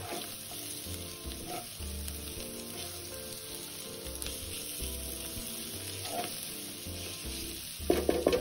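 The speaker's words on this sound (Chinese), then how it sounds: "可以将芋头丝加入，然后一起拌炒均匀" Shredded taro stir-fried in a hot pan, a steady close sizzle broken by repeated scraping and tossing strokes, growing louder with a burst of clatter near the end.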